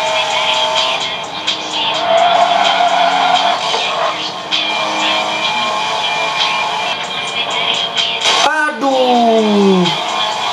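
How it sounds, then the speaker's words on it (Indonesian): In the CarX Street racing game, a car engine roars steadily with tire squeal, then a sudden impact cuts in as it crashes into another car, followed by sliding engine tones. "nabrak mobil kantor itu"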